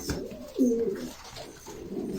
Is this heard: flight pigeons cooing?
yes